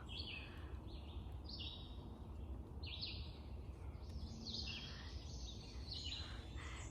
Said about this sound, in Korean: 조용한 새소리 들려드리고 싶어서 카메라를 켰습니다